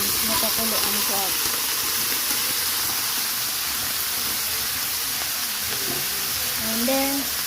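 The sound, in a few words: boiled crab returned to the pan, sizzling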